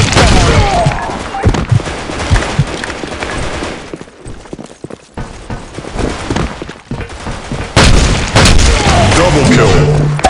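Black Shot video game grenade blasts: loud booming explosions amid dense gunfire, with a brief lull mid-clip before another heavy burst; voices and game announcer callouts are mixed in.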